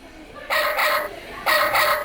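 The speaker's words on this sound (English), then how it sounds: "That's chicken." A chicken sound plays from a children's farm animal sound book, with two loud, close bursts of clucking and crowing separated by a brief gap.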